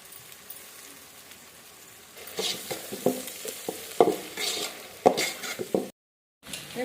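Ground onions and tomatoes go into a pot for village-style mutton curry, starting quiet, then loud sizzling with clanks and scraping stirs, a brief silent gap near the end before the sizzle resumes.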